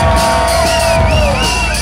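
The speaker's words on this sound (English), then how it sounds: "Let me hear y'all cheer." A crowd at a live hip-hop show cheers and whoops loudly and continuously, with shouts rising over a dense roar of voices.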